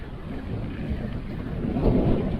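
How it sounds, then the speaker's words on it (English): Strong Meltemi summer wind on the Greek island of Schinousa, a continuous rumbling buffet of gusts against the microphone that grows slightly stronger toward the end. "that wind is intense today. The Meltemi has arrived. The Greek summer winds."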